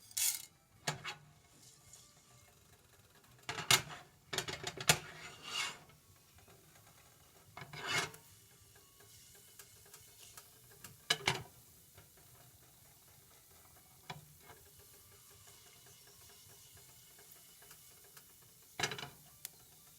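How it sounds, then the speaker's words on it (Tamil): Mustard seeds and urad dal splutter in hot oil for lemon rice with sparse, sharp pops and crackles. They come singly and in small clusters over a quiet background hiss. "கடுகு பொரிஞ்சோன்னு"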